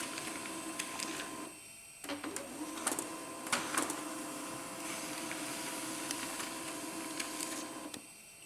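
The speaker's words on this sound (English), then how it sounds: "The configuration and network configuration reports print." An HP Laser 108 printer prints configuration reports steadily with a mechanical whir and rattling, pausing briefly before resuming; rhythmic clicks and feed noises sit over continuous motor hum.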